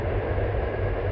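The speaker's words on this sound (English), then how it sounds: "Wow, that train's really loud." Outdoors in a wild wasteland in Japan, a train passes with a loud, steady broadband roar and a heavy low rumble throughout.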